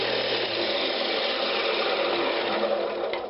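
A carbide cutter scrapes a wooden Christmas ornament spinning on a woodturning lathe, giving a continuous, loud, even rasping whir that runs steadily throughout before easing slightly at the end.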